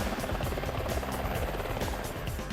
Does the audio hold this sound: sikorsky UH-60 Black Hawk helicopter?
yes